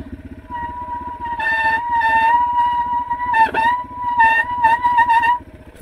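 Motorcycle ridden at Walker Valley during a back brake test, a steady engine drone with a sustained tonal whine that rises in loudness and then drops away near the end.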